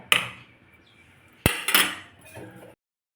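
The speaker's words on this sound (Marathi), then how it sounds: "तर ही थोडीशी बारीक करून घ्यायची डाळ" Cooked dal with tomatoes being mashed in a metal pot, heard as a few sharp clinks and scrapes of a utensil against the pot, close and alone, with short pauses between strokes.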